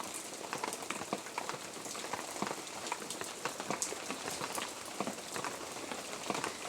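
Bhola fish curry with mustard paste bubbling at a steady boil in a pot, a dense, continuous crackle of small pops with no voices.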